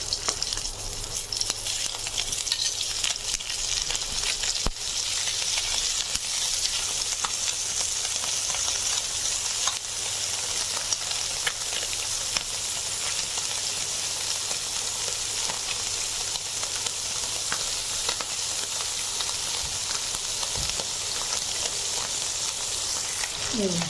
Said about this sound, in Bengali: এখন আমি ভেজে নিচ্ছি মাছগুলো একটা একটা করে